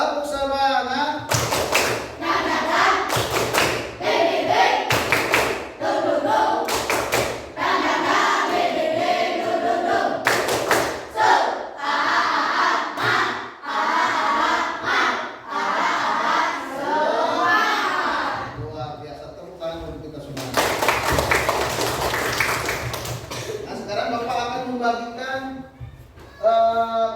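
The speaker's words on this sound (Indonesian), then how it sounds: "Semuanya coba sekali lagi. Tepuk semangat." A grade 6 class claps a rhythmic spirit clap in a classroom, a long run of loud, fast patterned claps and taps with children's voices and a teacher's talk mixed in, pausing briefly before a final burst.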